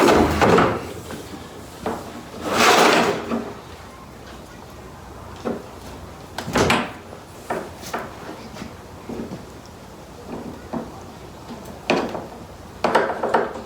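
A belt is hooked up to a sled in a snowy mountain winter setting, making a series of scraping, knocking and rustling handling sounds, a few louder, spread irregularly and close by.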